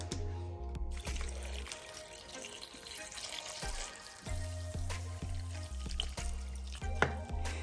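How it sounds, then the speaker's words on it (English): About a gallon of water runs into a stock pot holding bay leaves for homemade beef bone broth. A soft, steady trickle and splash plays under a low, intermittent hum, with faint knocks against the pot. "I'm gonna fill it up with water."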